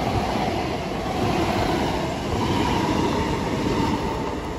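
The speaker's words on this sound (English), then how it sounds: "now approaching is the 11:47 of Avanti West Coast service from Edge Hill Depot to London Euston." Avanti West Coast train approaching a station platform at Harrow and Wealdstone, a loud steady rumble of wheels on rails with faint clatter, close by and continuous, no voices.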